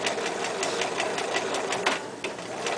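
A sewing machine runs steadily, stitching over the 5/8 inch seam of a fly zipper with a fast, continuous needle chatter at close range.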